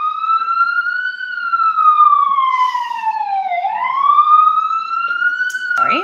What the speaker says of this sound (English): that's an ambulance. There are a lot of these. It's going to pass by in a second.